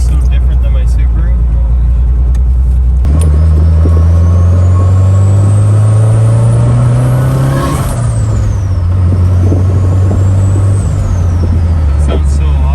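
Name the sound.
car engine on first drive after oil cooler install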